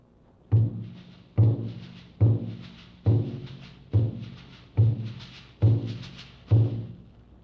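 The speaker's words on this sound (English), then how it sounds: "The box rattle sounds very much like the maracas, but it's a little softer and more subtle in nature." A soft East African box rattle is shaken in a steady, even rhythm, about eight evenly spaced rattling strokes, each a quick soft attack fading briefly, close and alone with no voices.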